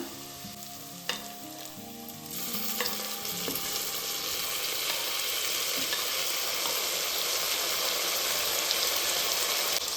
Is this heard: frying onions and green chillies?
yes